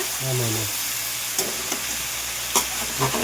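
Poriyal vegetables stir-frying in a pan, with steady sizzling throughout and a few sharp scrapes and clatters of stirring; a brief low voice murmurs at the start.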